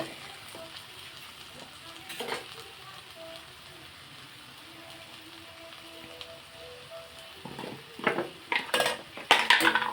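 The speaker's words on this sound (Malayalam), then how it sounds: "2 തക്കാളി ചെറുതായി അരിഞ്ഞ് വെച്ചിരിക്കുന്നതാണിത്. അതുകൂടി ചേർത്ത് നന്നായി ഇളക്കി കൊടുക്കാം." Chopped tomatoes being stirred into a sizzling pan for chicken roast, a soft steady fry broken by metal spoon scrapes and clatters that grow louder and busier toward the end.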